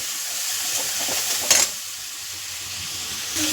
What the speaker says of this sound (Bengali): সামান্য লবণ মশলাটা ভালো করে কষানো